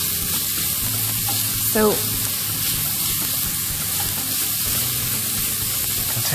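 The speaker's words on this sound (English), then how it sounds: "Just need to simmer or saute this for maybe a minute or two." Onions sauté in a hot pan with chorizo and paprika remnants for beef jambalaya, a loud, steady close sizzle and hiss that runs throughout, with a brief spoken word partway through.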